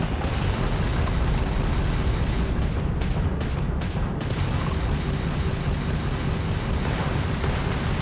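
Spaceship missiles, lasers and ballistic weapons firing in combat in the video game Starfield, forming a dense, loud, continuous barrage of blasts and rumbling explosions with no talking.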